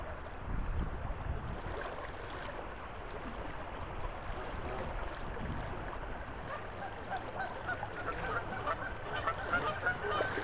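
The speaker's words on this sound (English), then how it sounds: "Geese are going crazy." Geese honking repeatedly along a river on a windy day, a busy chorus of calls at moderate distance over steady wind and water noise, with no talk.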